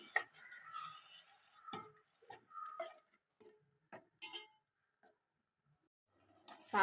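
Sardine fish curry stirred in a pot with tamarind water, giving a series of scraping, tapping clicks of a utensil against the pot, some in quick clusters and others spaced apart, close and moderately loud with quiet gaps between.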